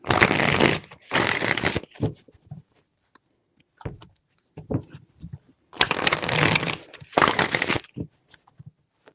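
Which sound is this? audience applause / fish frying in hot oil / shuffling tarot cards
shuffling tarot cards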